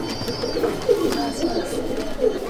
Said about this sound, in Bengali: পায়রা দুটো একসাথে